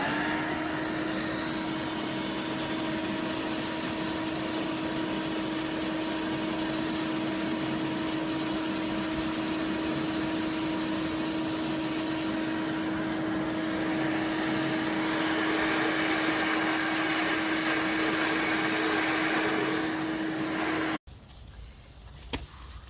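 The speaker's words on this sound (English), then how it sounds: "let's get to vacuuming this thing out and cleaning it" A vacuum cleaner runs continuously, cleaning the interior of a 2000 Dodge Viper GTS, a steady close whine with a constant tonal hum and airy rush, shifting slightly as the nozzle moves, then cutting off abruptly near the end.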